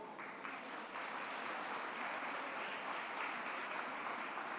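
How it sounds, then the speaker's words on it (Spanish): Steady applause from a conference audience of business executives welcoming a panel onto the stage, a dense, even wash of clapping that stays at a constant level for the whole stretch. "Recibamos al panel con un fuerte aplauso."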